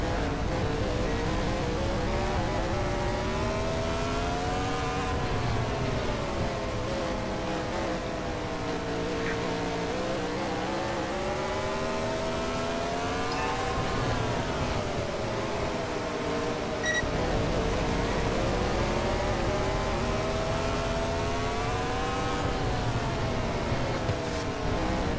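A race car engine in the racing game Short Track Showdown, a steady loud droning roar whose pitch rises and falls in slow waves as the car moves through laps, with no talking.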